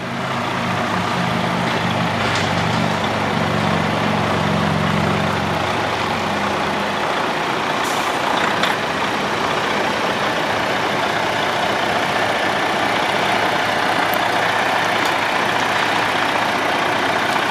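A 2015 Western Star 4700 daycab truck with 502,000 miles idles steadily and loud at close range, a constant deep engine rumble with a few faint clicks and rattles partway through.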